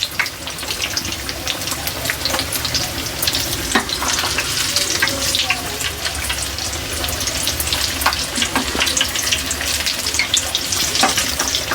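Potato bajji fritters bubble and sizzle in hot oil, a loud, steady crackling fry with scattered sharp pops throughout, close and continuous with no talk over it.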